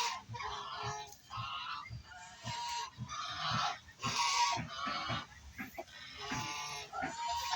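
A brooding Plymouth Rock hen on a free-range chicken farm, with harsh, honking poultry calls repeating almost continuously at close range, loud and overlapping in quick bursts with no talk over them.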